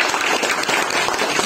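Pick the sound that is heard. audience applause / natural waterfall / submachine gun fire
audience applause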